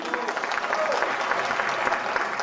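Steady, dense applause from a crowd at a tenth-anniversary stage show, with many hands clapping evenly and fairly close throughout.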